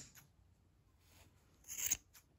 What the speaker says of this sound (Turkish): Eğer büyük makasınız yoksa küçük makasla da kesebilirsiniz.